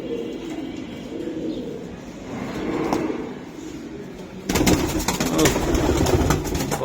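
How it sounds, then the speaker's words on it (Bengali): Racing pigeons coo close by, soft throaty calls overlapping in a steady murmur, with a brighter, noisier stretch of calling and movement in the second half. "দেখছেন কবুতর"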